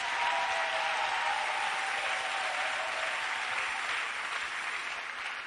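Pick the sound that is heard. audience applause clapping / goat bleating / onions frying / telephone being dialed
audience applause clapping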